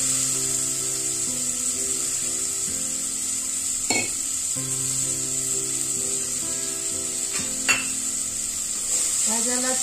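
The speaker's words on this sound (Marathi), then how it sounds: "भाज्याला छान परतून घ्यावं।" Vegetables sauté in a pan over lowered gas with a continuous loud sizzle, while a steady tonal hum runs throughout and two sharp metallic clanks of utensil on pan cut through.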